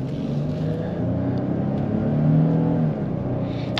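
A 2022 Nissan Frontier Pro-4X V6 accelerates from inside the cabin, its engine a steady low rumble and hum that swells midway, heard alone without talk.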